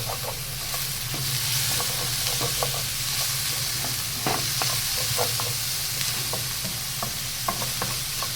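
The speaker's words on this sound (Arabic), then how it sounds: "هنا البصلايه ابتدت تحمر وتصفر وتخضر" Onion frying in a pan: a steady, close sizzle with scattered crackles and pops running throughout, and no voices.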